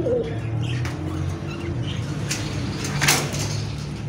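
Pigeons coo softly and repeatedly at a busy outdoor bird market, their low throaty calls close over a steady background bustle with a brief sliding rattle near the end.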